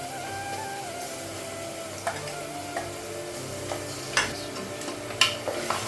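Meat fries in a pan with onions and spices, giving a steady sizzle with occasional sharp clicks and scrapes as it is stirred, close and moderately loud.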